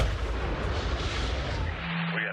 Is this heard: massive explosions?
yes